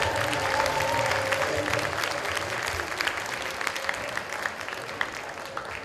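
Theatre audience giving sustained applause at the close of a stage play, a dense wash of many hands clapping steadily from start to finish with a faint crowd murmur underneath.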